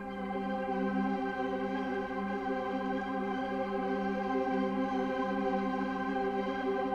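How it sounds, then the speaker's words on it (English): Dark synth phrase from a sample pack, one or two sustained layered notes droning steadily with a rich stack of harmonics, loud and unbroken throughout with no other sounds. "So I started this sample off by adding a synth phrase from my upcoming Paranoia Phrases mega pack, which sounds like this."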